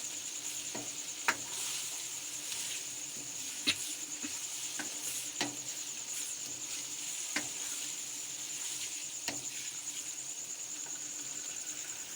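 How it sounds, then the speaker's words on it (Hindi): Chana dal and spinach roasting in a pan give a steady low sizzle, with a spoon stirring and scraping at scattered moments, close up and with no voices. "पाँच मिनट इसकी भुनाई करते हैं"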